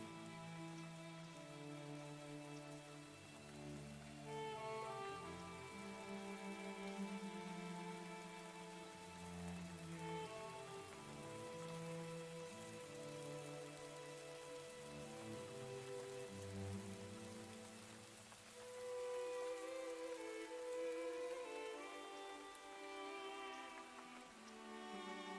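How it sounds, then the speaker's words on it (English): Rain falling in a hardcore survival city builder video game, a steady soft patter spread evenly throughout, heard under calm sustained game music with no speech. "Very nice to hear the rain."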